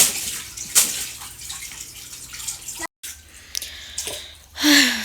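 Something being washed under running water at a tap: steady close splashing and trickling with drips, a brief pause, then the flow resumes and ends in a louder gush.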